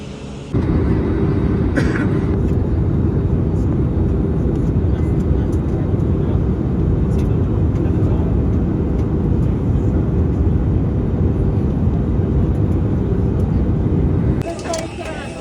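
A passenger airplane landing at Budapest, heard from inside the cabin as a loud, steady roar of engines and rushing air that holds level for about fourteen seconds and then drops away.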